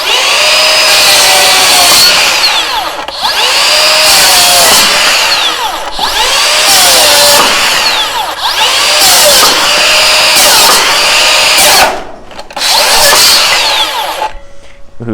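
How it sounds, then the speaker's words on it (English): Makita XGT GSR01Z cordless rear-handle circular saw cutting through wood in repeated loud, sustained passes of whining blade noise, each a few seconds long, with brief pauses between cuts and the motor winding down near the end. "Finally pushing the saw a little bit, got it to finally stop there."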